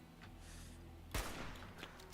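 Gunfire in the video game Fallout 4 as enemies are picked off: one loud, sharp shot cracks out midway over a steady low game ambience, with a fainter sound following.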